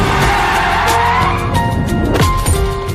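A truck roars in and its tires squeal and skid hard before striking a person, a loud, dense vehicle sound effect with a sweeping engine tone and a sharp impact-like burst near the end.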